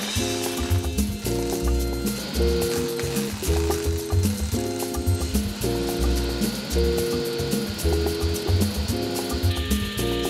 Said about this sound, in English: here I'm just ripping the very thin trim pieces in order to trim out the inside of each cabinet.